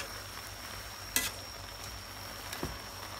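Chicharon and vegetables frying in a pan, a constant soft sizzle broken by a few brief clatters of stirring, faint and steady without any voices.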